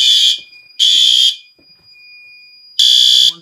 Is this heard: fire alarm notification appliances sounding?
yes